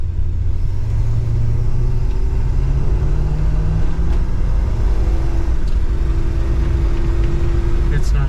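A heavy old car's engine drones steadily while driving, a constant low rumble with slowly rising tones as it pulls along, loud and close, with no talk over it.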